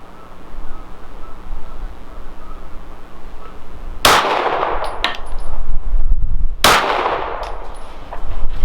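A Walther PDP Compact pistol fires two loud, close shots a few seconds apart at an outdoor range, each a sharp crack with a short echoing tail over steady background noise.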